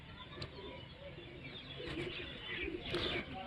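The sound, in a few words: pigeon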